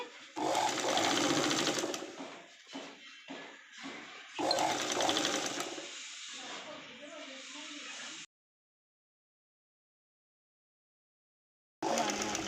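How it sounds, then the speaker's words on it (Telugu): A sewing machine runs close and loud in bursts while stitching a double stitch on a Punjabi dress top, with a steady whirring drone, short stops between runs, then a long silence before the motor starts again. "ఈ విధంగా డబుల్ స్టిచ్ అనేది వేసేసుకోవాలి"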